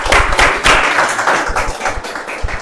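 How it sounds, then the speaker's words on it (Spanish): Hands clap in brisk, uneven bursts from a small group at a public-management ceremony, loud and close, with no talk over them. "Fuerte las palmas."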